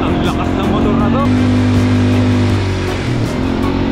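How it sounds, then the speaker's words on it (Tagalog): An ATV engine runs loud and close, idling with a throaty hum and revving briefly. "Ang lakas ng motor na to."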